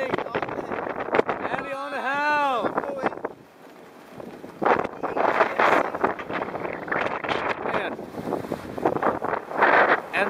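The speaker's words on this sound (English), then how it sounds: "30 knots of winds with gusts up to 34." Strong wind of about 30 knots gusting to 34 buffets the microphone aboard a Beneteau First 40CR sailboat at sea approaching Santorini, a broad rushing roar heard in surges, with someone talking over it.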